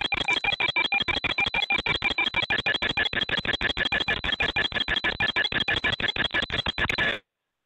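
Alert tone from an online meeting signalling callers waiting to be let in: a rapid, evenly spaced train of loud electronic beeps repeating for about seven seconds, then cutting off abruptly.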